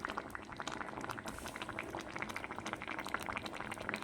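A pot of mango pulissery curry bubbling steadily on the stove, dense small pops and gurgles at an even low level, close by with no voices.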